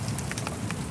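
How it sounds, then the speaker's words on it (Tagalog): Steady rain pours down over a garden, a dense continuous hiss of drops striking leaves and ground with scattered brighter patters, close and even throughout with no voices. "Look, it's raining. I'll show you the rain."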